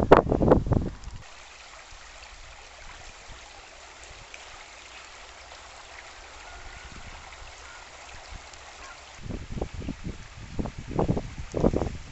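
A river flows with a steady, soft rushing wash outdoors on a cold frosty night along a countryside trail, with louder rustling and handling noises at the start and end.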